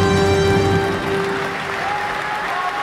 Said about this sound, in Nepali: जोरदार तालीले उहाँहरूलाई स्वागत गरिसकेपछि